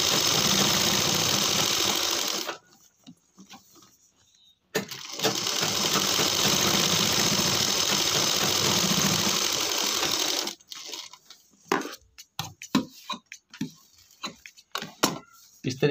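A sewing machine stitching piping onto cloth slippers made from leftover fabric, running in two long steady bursts separated by a pause, then short stop-start clicks and taps.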